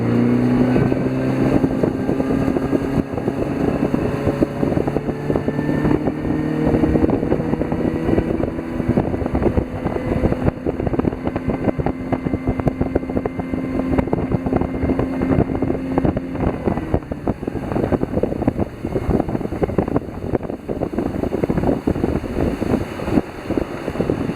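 A Bayliner Element M15 motorboat engine roars continuously and close, its drone rising as it picks up speed, with wind buffeting the microphone throughout.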